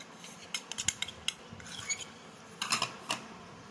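A spoon scoops herbal leaf powder from a container, giving a series of light, sharp metallic clinks and taps. They come in irregular clusters, close and fairly quiet, with no speech.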